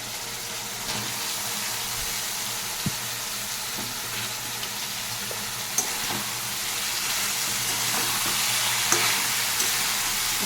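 Shredded cabbage and stored peas fry with chilli, cumin and turmeric in a wok, giving a steady, moderately loud sizzle broken by occasional light clicks of stirring.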